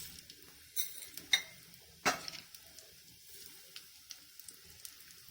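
Mustard seeds pop and crackle sharply in hot oil over a faint sizzle, a couple loud snaps early and then scattered quieter spits.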